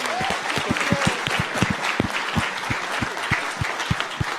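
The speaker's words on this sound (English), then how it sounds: "can we please have a big round of applause for our panellists?" A round of applause for panellists at a community radio discussion, a lively crowd clapping with several sharp, close individual claps standing out over the steady patter, with faint murmured voices underneath.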